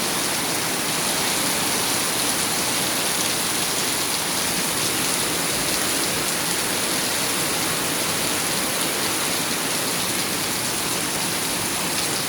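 Heavy rain pours down steadily in a dense, unbroken roar of spray and drops that stays at the same loud level throughout.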